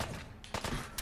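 Gunfire in Fallout 4, a couple of short, sharp shots standing out over a steady low background, close and moderately loud within about a second.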